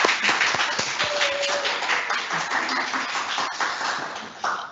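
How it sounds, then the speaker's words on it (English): A university students' union panel audience applauds the panelists, steady dense clapping filling the room at moderate level, holding evenly throughout. "everyone can join me in a big round of applause for all them"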